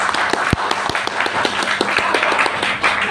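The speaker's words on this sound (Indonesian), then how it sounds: "Tepuk tangan Bu Zahra." Applause at a KKN community-service briefing at STAI Taruna Surabaya, a steady patter of many hands clapping with a few sharper individual claps standing out, at moderate loudness throughout.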